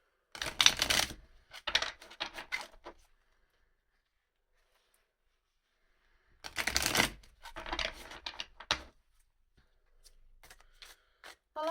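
Tarot cards shuffled and drawn, heard as two dense bursts of quick riffling and slapping separated by a long silent gap, then scattered soft taps of cards being laid down, close and moderately loud.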